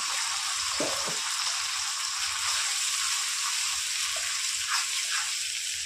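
A paste of ginger, onion and garlic sizzles steadily in hot oil for mutton curry, a loud, close, continuous frying hiss with faint occasional stirring scrapes.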